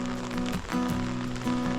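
Steady rain falls outdoors at Narayan Ashram on a mountain route in the Dharchula area, a dense close hiss of drops on surfaces with a low droning hum running underneath throughout.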